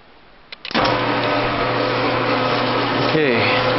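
Missouri wind permanent magnet generator spinning up on a test rig at 455 rpm, a sudden loud, steady mechanical hum and whir that holds constant, with a brief shift in tone near the end.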